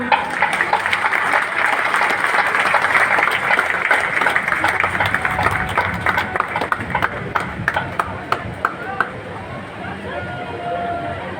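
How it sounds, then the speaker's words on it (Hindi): Crowd applause rises for the marching platoons at an Independence Day parade in Begusarai: steady, dense clapping that thins into scattered individual claps toward the end, with faint crowd murmur underneath. "हमारे पूरे प्लाटून्स के लिए जोरदार तालियां"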